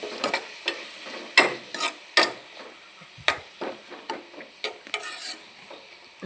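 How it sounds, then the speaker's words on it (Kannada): Curry leaves and tomato frying in a pan for a prawn and potato curry, with repeated scraping stir strokes and a light sizzle underneath, close and steady with no talking. "ಮತ್ತು ಕರಿಬೇವು ಸೊಪ್ಪು ಹಾಕಿ, ಅದನ್ನು ಸಹ ಒಳ್ಳೆ ಮಾಡಿ ಫ್ರೈ ಮಾಡಿ."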